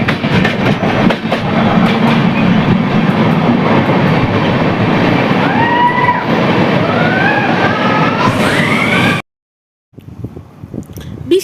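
The Vizag to Araku passenger train running, with a loud, close rumble of wheels and carriages, high metallic squeals rising over the rattle, then a sudden cut to a quieter rolling sound.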